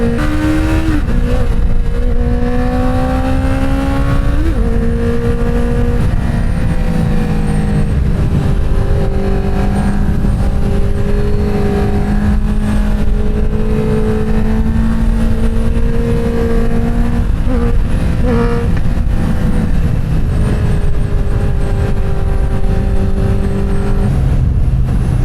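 An inline-four engine revs hard and loud, its pitch climbing through repeated rises with brief dips at each gear change, sustained and close with no talking.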